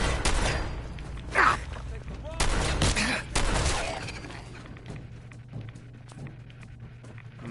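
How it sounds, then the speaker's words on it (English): Gunfire in the video game Fallout 4, a ragged series of loud close shots and bursts with sharp attacks and ringing tails, clustered in the first half and then fading into quieter ambience. "I missed a couple of shots"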